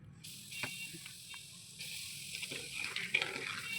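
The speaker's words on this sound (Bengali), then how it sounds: "এর মধ্যে আমি দেখো নুন হলুদ সব দিয়ে দেবো।" Salt and turmeric sizzle in hot oil in a wok while amla pickle is being made. The soft, hissing fry carries faint stirring scrapes and stays quiet throughout.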